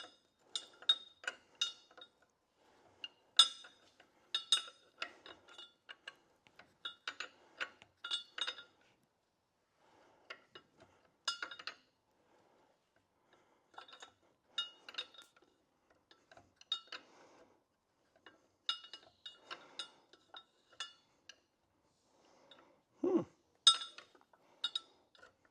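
Metal wrench clinks and ratchets in short irregular bursts while working on parts of a budget Camaro build in a cramped spot, close and fairly quiet, with pauses between clusters of taps.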